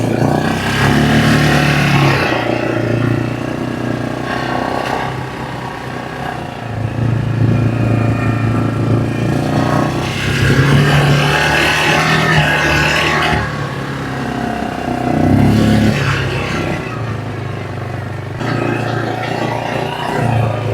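A UTV engine runs steadily while the vehicle is driven, with its bodywork left open, giving a loud, close, continuous motor drone that rises and falls in several surges of revving across the stretch.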